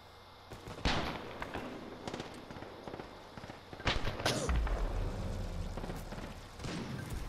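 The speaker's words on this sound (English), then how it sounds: "Dude, I'm gonna use my sniper rifle on this." Rifle shots crack out in Titanfall 2, a few loud sharp reports spread across the stretch with booming thuds between them, set against ongoing game noise and the hum of action.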